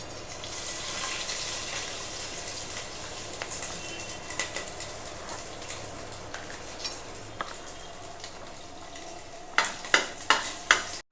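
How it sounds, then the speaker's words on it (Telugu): Ginger garlic paste frying in a pan for chicken biryani gives a steady, close sizzle with scattered stirring scrapes, then a quick run of sharp utensil taps near the end; nobody speaks. "అల్లం ఎల్లిగడ్డ వేసుకున్నాం కదా, కొద్దిగా పెద్దగా వేయించుకుందాము"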